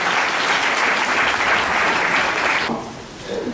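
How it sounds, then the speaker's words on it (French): Loud, dense applause from a congregation at a worship service, steady for nearly three seconds before thinning out and fading. "Applaudissez pour le Seigneur."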